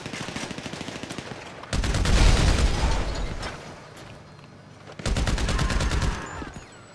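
Gunfire in Grand Theft Auto 5 in two loud automatic bursts of rapid shots, with a quieter rattle of distant shooting between and before them.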